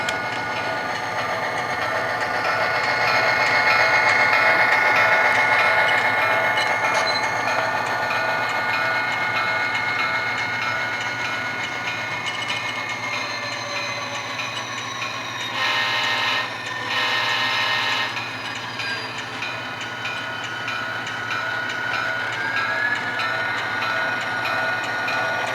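An HO scale model Jeep 35 locomotive sound unit idles with a high turbo whine over a steady diesel rumble, continuous and moderately loud, with a brief clanking burst partway through as cars are handled.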